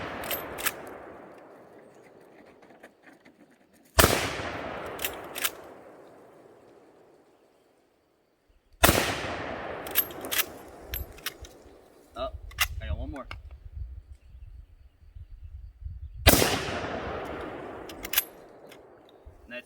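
Marlin lever-action rifle firing at a Tide bottle outdoors: four loud, sharp shots spaced several seconds apart, each ringing out and fading. A quiet lever-cycling rattle comes between two shots, and brief voices are heard.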